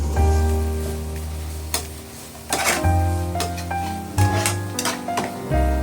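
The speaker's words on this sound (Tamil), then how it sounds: "இப்போ தக்காளி வதங்கிடுச்சு" Tomatoes sauté in a pan for a prawn thokku, stirred with metal utensils that clink and scrape against the pan in several distinct knocks over a low sizzle and a steady hum.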